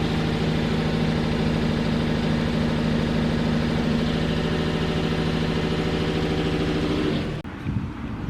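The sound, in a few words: Ford car engine idling roughly with misfire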